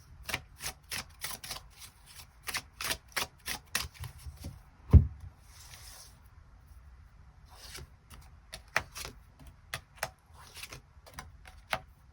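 Tarot cards shuffled and drawn at close range, a string of crisp, rapid flicks and riffles, a soft thump midway, then more spaced card snaps and slides, quiet and without talk.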